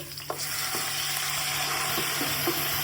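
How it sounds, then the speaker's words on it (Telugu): Chicken pieces drop into a pan of green chillies and curry leaves frying in hot oil, setting off a loud, steady sizzle throughout with faint taps of stirring. "ఇప్పుడు పచ్చిమిర్చి కరివేపాకు వేసి వేపాలి ఇప్పుడు చికెన్ వేసి"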